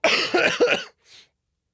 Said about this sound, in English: I just had a cough.